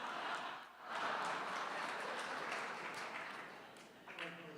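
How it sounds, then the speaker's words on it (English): Audience applause at a congressional district primary debate, a faint, steady patter of clapping that swells briefly after a dip and then thins toward the end. "The applause on that one"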